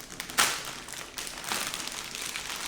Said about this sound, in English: Give that a tear and it should be fine.